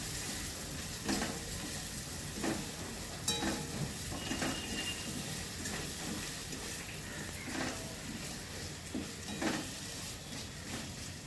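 Cumin and chilli powder are stirred and fried in a pan for a pumpkin and fish curry, producing a faint steady sizzle with scattered spatula scrapes and taps against the pan.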